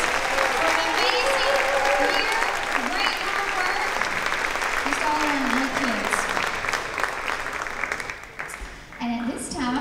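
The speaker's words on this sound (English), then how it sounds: "So let's give them one more final round of applause." Sustained audience applause at a fourth grade promotion ceremony, dense steady clapping filling the room for about eight seconds before tapering, with voices and cheers mixed in and a speaking voice rising near the end.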